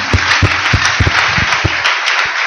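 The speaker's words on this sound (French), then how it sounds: "Applaudissons fort le Seigneur." A church congregation claps together in a quick, uneven burst of applause. The claps are sharp, close and loud, spread over a couple of seconds, and no voices are heard.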